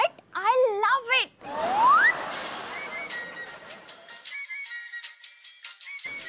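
A phone ringtone plays, a bright electronic melody that sweeps upward, with a voice speaking near the start and a busy background.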